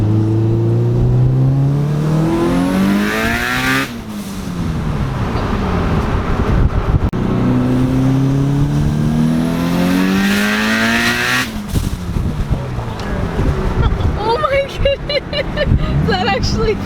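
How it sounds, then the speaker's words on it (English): Fully built 700 hp Subaru STI with a 6466 twin-scroll turbo making its first hard pull, the engine roaring and rising through gears in loud sweeping surges with brief shift breaks, wind buffeting and occupants talking over it. "This is the first pull on 700 horsepower."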